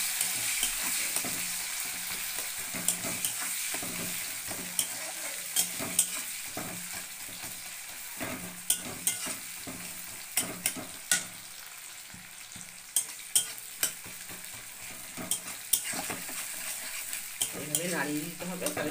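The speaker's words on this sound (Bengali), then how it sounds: "এইভাবে নাড়িয়ে দিতে হবে, তাহলে পেঁয়াজগুলো যেগুলো লেগে আছে সেগুলো সব ছেড়ে যাবে" Onions softening in a pan for a mustard-poppy fish dish, sizzling steadily throughout while a utensil stirs and scrapes them, with frequent sharp clicks and clatters of spoon against pan, close and fairly loud.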